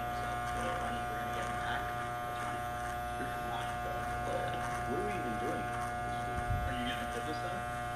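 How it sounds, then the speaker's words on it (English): Electric hair clippers buzzing steadily while cutting hair at home, a continuous close hum under intermittent conversation. "So that kind of needs some clipper cutting."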